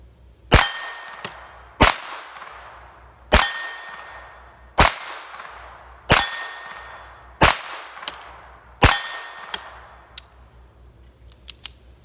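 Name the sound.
Colt Junior .25 ACP pistol shots ringing on steel targets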